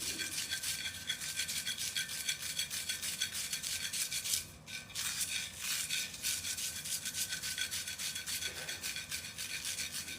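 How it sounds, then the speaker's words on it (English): Pigment is mulled into paint with a steady, gritty rubbing that sounds like fine sandpaper, a close, even scraping rhythm that pauses only briefly in the middle. No one speaks. "Whenever it sounds like there's a little bit of sandpaper in there, that's pigment that hasn't been fully combined in yet"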